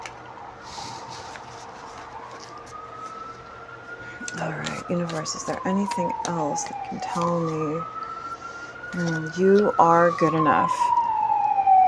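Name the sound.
siren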